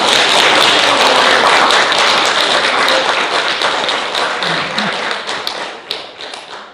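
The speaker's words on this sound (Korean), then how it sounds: "박수 한번 치세요." An audience at a Korean political lecture forum claps in a dense, loud burst that holds steady and then thins out and fades over about seven seconds.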